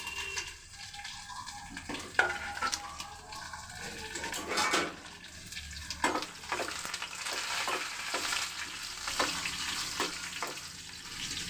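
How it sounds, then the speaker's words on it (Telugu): Curry leaves, cumin seeds and green chilies fry in a pan of hot oil, a soft steady sizzle broken by scraping stirs and occasional clinks, fairly quiet and close. "కరివేపాకు జీలకర్ర పచ్చిమిరపకాయలు ముందు వేయించేస్తాను"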